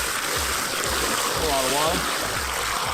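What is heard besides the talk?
water poured from a 5-gallon bucket into the solar digester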